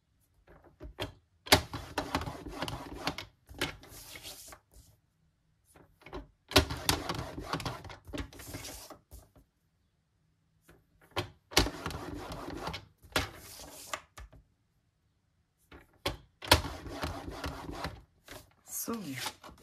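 A scoring tool is dragged along a paper box lid to crease fold lines 1.5 cm from the edge, making repeated scraping, rubbing strokes in separate bursts with short pauses between them, close and fairly quiet.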